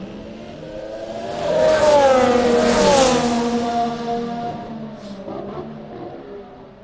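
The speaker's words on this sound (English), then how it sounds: "Here's the Sauber and the Renault." Formula 1 cars, a Sauber and a Renault, pass during Barcelona testing: a high engine whine swells as they approach, peaks with shifting pitch, then fades away as they move off into the distance.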